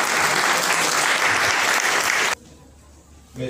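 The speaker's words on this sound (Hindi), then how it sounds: "तालियां होनी चाहिए।" A crowd at a public cultural event bursts into loud, dense applause that stops abruptly partway through, leaving quiet room tone before a voice begins.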